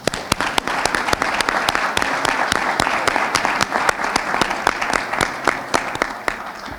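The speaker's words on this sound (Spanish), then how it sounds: "Podemos entonces con un aplauso sellar este compromiso para el año que viene en Brasil sede con este tema." Audience applause at a Latin American and Caribbean trade and competition working group meeting, a dense steady wash of clapping with a few sharp claps standing out, sustained and fairly loud throughout.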